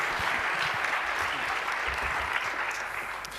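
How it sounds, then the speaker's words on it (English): Audience applause welcoming a speaker onto a stage at a talk about a Hamburg transparency law, a dense, steady wash of many hands clapping that holds evenly throughout and eases slightly at the end. "Please welcome him with a huge round of warm applause"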